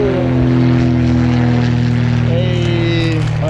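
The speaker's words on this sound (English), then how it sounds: "Oh, dang, look at that plane right above us." A small propeller airplane flying low overhead in a pattern near an airfield in Angwin, California, gives a loud, steady droning hum that carries on throughout.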